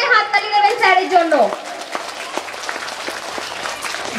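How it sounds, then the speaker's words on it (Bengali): A school annual day and convocation audience breaks into applause for an honoured teacher; a voice speaks over the first moments before the clapping carries on alone, steady and moderately loud. "সবাই একটু জোরে হাততালি দেবেন স্যারের জন্য।"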